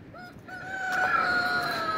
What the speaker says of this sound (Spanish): Ay, ya te oí, gallo.